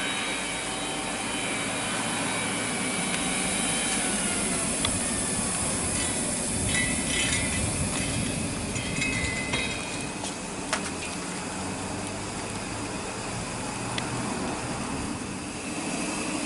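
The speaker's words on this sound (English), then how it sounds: "we can open the engine's own steam blower to take the electric blower off" The steam blower on the BR 9F steam locomotive Evening Star roars steadily, a continuous broad rushing hiss with a few faint metallic clicks and knocks around the engine.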